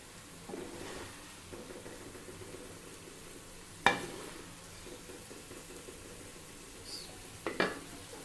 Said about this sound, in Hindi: अब हम इसको डिश आउट कर लेंगे।